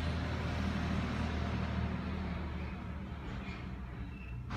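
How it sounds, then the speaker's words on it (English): A heavy vehicle rumbles steadily along a road nearby, a dense low engine drone that fills the whole stretch without letting up. "There's a truck in the road that's making a lot of noise."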